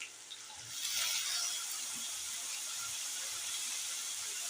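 Prawns fry in a pan, making a steady, close sizzle that swells after about a second and keeps hissing at an even level.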